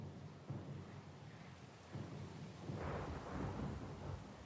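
Low rumbling thunder rolls over steady rain during a storm at sea in Pillars of Eternity II, swelling louder midway and staying dense and continuous throughout with no voices.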